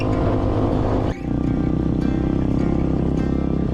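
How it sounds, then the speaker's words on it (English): A cheap 250cc EFI dual sport dirt bike engine runs loud and steady while ridden, with a dense rough drone that dips briefly near the start and then holds strong to the end, no speech. "I might be on the worst steel-injected dual sport ever made, but I'm riding a bike"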